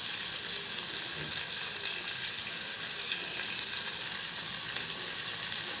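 Precooked cashews fry in a pan with cloves and star anise, giving off a steady, loud sizzle that stays even throughout, without speech.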